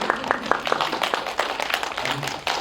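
Audience clapping at a film talk event with the cast of a Korean movie, a loose, moderate patter of hand claps filling the room with no one talking over it.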